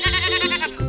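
A goat in a 3D animal video game bleats once, loud and close, a wavering, quavering cry that fills the short moment with no talk over it.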